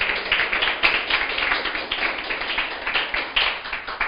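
Dense, steady clapping from a church congregation of many hands, continuous and fairly close, with no pauses for about four seconds.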